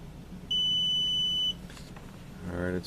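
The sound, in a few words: RCBS ChargeMaster Lite powder scale beeping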